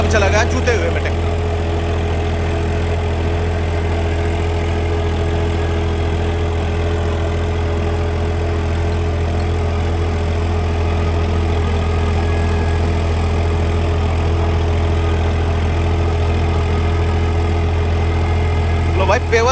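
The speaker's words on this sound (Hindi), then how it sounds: "तो भाई अब चला गया जूते हुए में ट्रैक्टर।" New Holland and Mahindra tractors pull ploughs through a field in low gear during a pulling competition, their engines droning loudly and steadily throughout with a deep constant hum.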